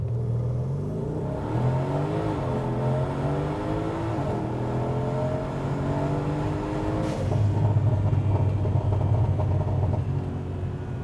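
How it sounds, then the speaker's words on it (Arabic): An 800 hp Mercedes C63 AMG launches hard from a standstill. Its engine climbs through repeated rising revs with gear changes, then settles into a loud, deep rumble. No one speaks over it. "تعال وقف بدنا ندوس دوسة صفر"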